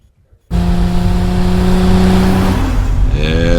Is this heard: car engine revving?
yes